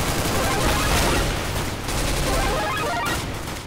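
Rapid automatic rifle fire from an M4 in Counter-Strike: Global Offensive gun game, a dense, loud, continuous burst of shots with explosive booms mixed in, no talking over it.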